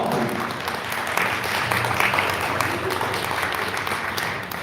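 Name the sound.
audience applause for a panel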